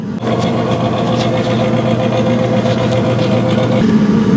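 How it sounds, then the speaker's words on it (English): Old, rickety combustion blower fan on a Central Boiler Classic Edge 550 wood furnace, running as a loud, steady, rough mechanical hum with a rattling edge that holds without pause throughout. "the rickety sound it was making before"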